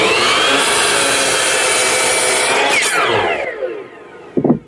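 Hand saw cutting wood in a miter box for a wheelbarrow build, a steady continuous rasping stroke that runs for several seconds, then tapers off as the cut finishes, followed by a brief clunk of the offcut or tool.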